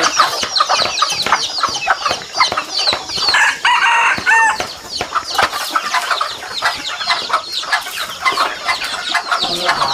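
Jungle fowl hens cluck busily and a rooster crows amid a dense, lively chorus of farmyard fowl, fairly close and continuous.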